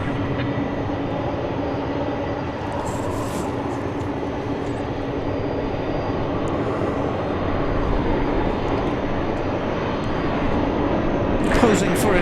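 A 1996 aircraft at DFW Airport gives a steady, broadband jet rumble at moderate distance, continuing throughout with a faint voice over it and a brief rattle near the end.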